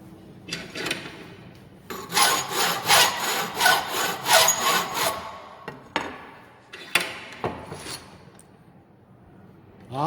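A rough hand file rasps along the metal edges of plates on all four sides before gas welding a butt joint, close and clear, with a burst of rhythmic strokes in the middle and scattered single strokes after.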